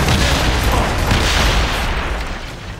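Naval ship cannon fire in Assassin's Creed Rogue, a heavy booming volley of blasts rolling together into a dense loud rumble that slowly fades.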